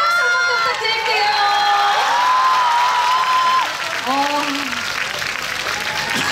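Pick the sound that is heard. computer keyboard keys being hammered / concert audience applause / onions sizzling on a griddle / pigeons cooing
concert audience applause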